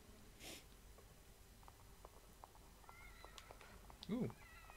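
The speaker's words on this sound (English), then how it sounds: "Ooh. Cat!" A cat in the horror video game The Evil Within gives a short, clear meow near the end, preceded by faint game ambience, soft clicks and a brief noise burst.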